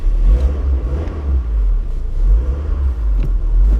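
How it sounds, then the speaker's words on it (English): Engine of a 1991 Toyota Celica GT running, a loud heavy low rumble with slight rises in revs, recorded close up and steady throughout, with no voices. "So what I'll do is fire it up."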